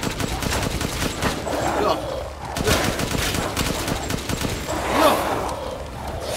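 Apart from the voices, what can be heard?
gunfire in the video game Resident Evil Village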